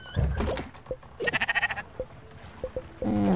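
Sheep bleat a few times in the video game Spiritfarer, one long wavering bleat in the middle, with soft clicks and light game-like sounds around them.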